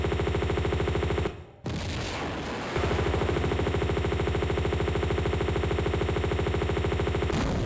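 Rapid 9mm gunfire in the video game Tomb Raider II rings out in a fast, steady string of shots, loud and close, briefly breaking off before the firing resumes.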